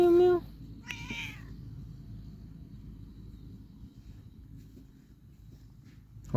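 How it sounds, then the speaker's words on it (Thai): A cat meows twice in quick succession, close and clear, over a steady low rumbling drone that continues alone for several seconds before a final short cry at the end. "แมว"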